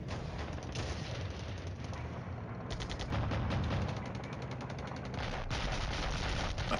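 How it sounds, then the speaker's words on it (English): Infantry open fire in the Flashpoint Campaigns Cold War wargame: rapid bursts of machine-gun and rifle fire crackle in steady rhythmic volleys, with heavier thuds mixed in, loud and continuous throughout. "Infantry opening fire at the HQ unit."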